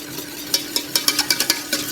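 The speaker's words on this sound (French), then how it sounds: "nous allons pouvoir incorporer le mélange sucre-pectine" A sugar and pectin mixture stirred into a warm preparation at about 40 degrees, with soft, regular scraping strokes against the pan that come close and distinct, about eight in quick succession.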